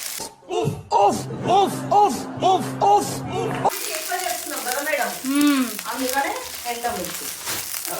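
Curry leaves and dried red chillies hit hot oil in a kadai for Andhra karam podi, a loud sizzle and spattering under continuous talk and harmonic tones from a voice or music.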